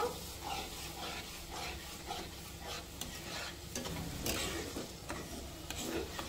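Spice masala with tomato paste sautéing for egg biryani, a continuous sizzle with irregular scraping and clinking of a spatula stirring in the pan, fairly quiet and close.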